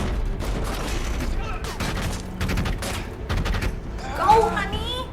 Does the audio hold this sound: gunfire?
yes